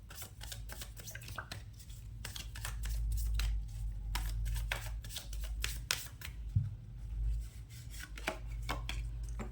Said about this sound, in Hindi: यहाँ पे शफल हो रहा है तो आपको ये देखनी है शफलिंग